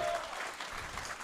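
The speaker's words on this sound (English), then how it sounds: "Everyone is cheering him on." Crowd applause and cheering for a powerlifter's final 336 kg world-record deadlift attempt at the 2021 IPF World Classic in Hungary, a steady dense wash of clapping throughout the short moment.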